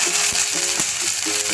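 Curry leaves sizzle in hot oil for a tempering, a dense close frying hiss with soft rhythmic stirring taps and light background music.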